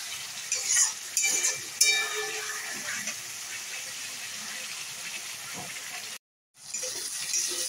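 Masala for a fish curry being stirred and fried in a pan, a soft continuous sizzle with scraping spoon strokes near the start and a brief cut-out near the end.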